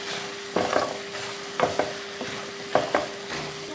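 Mutton fry with pepper and curry leaves stirred in a pan: close, steady sizzling broken by several rhythmic scraping strokes of a spoon against the pan, with a faint steady hum underneath and no talking.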